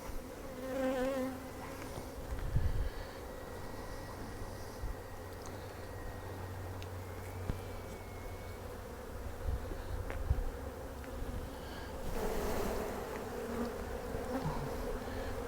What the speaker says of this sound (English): We'll see if we can really tick these bees off,